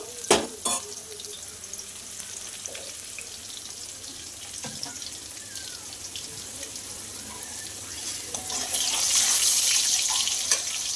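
Rice bubbling away in a pot on the stove, a steady low simmering hiss with occasional knocks and clinks nearby, swelling into a louder rushing boil toward the end.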